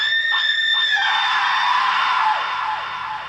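A loud, drawn-out painful scream rings out as a horror sound effect, sustained for a few seconds before fading slightly at the end.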